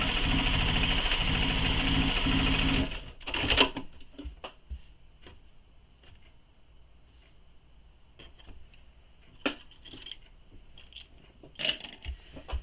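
A sewing machine runs a fast basting seam on a shoulder bag for about three seconds, then stops, followed by scattered clicks and handling of fabric and tools.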